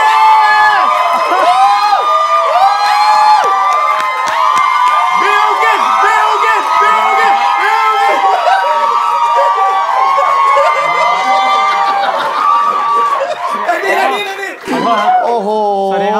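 Studio audience at a Thai late-night talk show cheering, whooping and shouting loudly to welcome a singer, a dense continuous crowd roar with excited high screams throughout.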